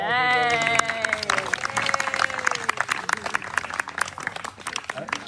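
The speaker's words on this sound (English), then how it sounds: "Let's have a round of applause" A gathering at a spiritual retreat breaks into a round of applause. A sustained tone with a voice fades out at the start, then dense clapping from a crowd follows, steady and moderately loud.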